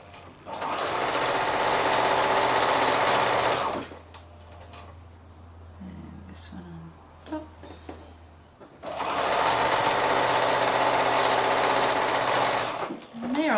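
A sewing machine stitches a quarter-inch seam joining fabric squares right sides together, running in two long steady buzzing bursts with a quieter pause of fabric handling between them.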